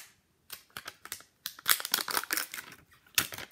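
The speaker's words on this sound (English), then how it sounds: "I got a zipper here." A zipper on toy packaging is pulled open in short, raspy bursts, close and fairly loud, with brief pauses and crinkly handling noise between pulls.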